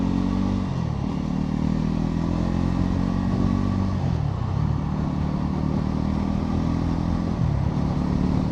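A 2025 Bajaj Pulsar NS 400Z motorcycle is ridden and shifted through gears, its engine rising in pitch and then dropping sharply at each change, with two or three shifts. Loud, close exhaust drone with no voices.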